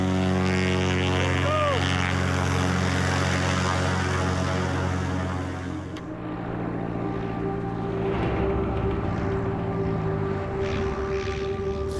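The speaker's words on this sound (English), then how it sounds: "Rocky McBride, the pilot that got me over here and now is flown back" A small aircraft flies off from a remote wilderness site, its propeller drone steady and harmonic, shifting in tone midway as it moves away and stays moderately loud throughout.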